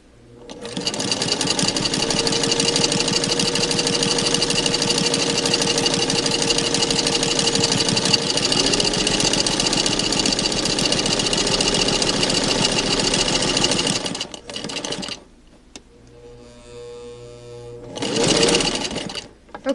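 A home sewing machine stitches a quilted five-layer fabric surgeon-style face mask, running in a steady fast whir for about fourteen seconds, then stopping and starting in short bursts, close and loud.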